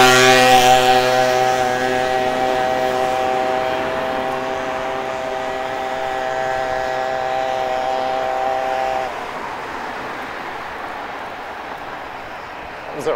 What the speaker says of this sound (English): Rather noisy moped.